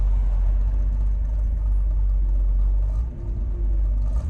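A 1963 Chevrolet Corvette engine idles around 500–600 RPM with a low, steady gurgling rumble, close by, with a slight dip and wobble in the rhythm midway.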